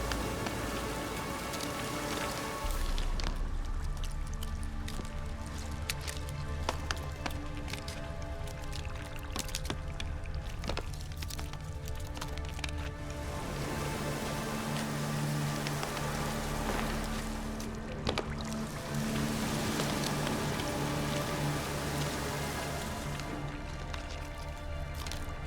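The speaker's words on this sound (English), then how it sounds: "Looks like rain." Steady rain falls across an outdoor landscape in The Witcher 3, a continuous broadband hiss with scattered droplet patter and a low background hum, constant and fairly loud throughout with no talking.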